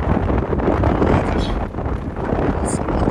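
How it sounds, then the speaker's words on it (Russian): Strong wind rushes over an open-roof safari vehicle in Kenya, a loud, constant roar with heavy buffeting of the microphone and the low rumble of the moving vehicle underneath. "Очень сильный ветер."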